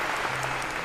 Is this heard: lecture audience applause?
yes